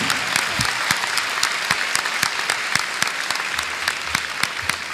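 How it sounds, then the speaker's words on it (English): Steady audience applause at a Ghanaian senior high school renewable energy competition, dense clapping with sharper individual claps standing out, continuous and fairly loud throughout. "Ladies and gentlemen, a round of applause for Business SHS."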